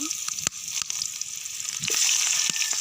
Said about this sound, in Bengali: এই তেল গরম হয়ে গেছে, পেঁয়াজ কুচিগুলো দিয়ে দেব।